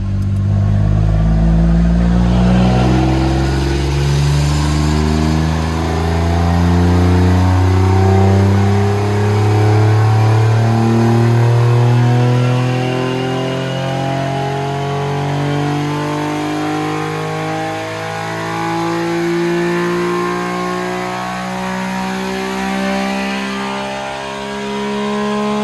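A sports car engine revs hard on a dyno, a loud, sustained roar that climbs steadily in pitch toward redline, close and alone with no talk over it.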